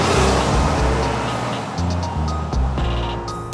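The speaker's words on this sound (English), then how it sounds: "with a bit of growl coming from the V6 engine" A 2023 Honda Pilot TrailSport with a V6 engine is driven, giving a loud, steady engine drone and road rumble that stays close and continuous, with a few brief knocks partway through.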